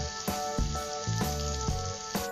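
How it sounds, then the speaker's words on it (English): Onions frying in butter with whole cardamom pods and cloves give off a steady close hiss with a few soft pops and stirring bumps, lasting only a couple of seconds. "I'm going to now fry these onions well until they become soft"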